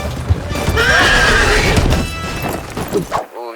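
In Red Dead Redemption 2 Online, a horse gives a loud, close whinny followed by clopping hooves and shuffling, with a voice talking over parts of it before an abrupt cut to near silence.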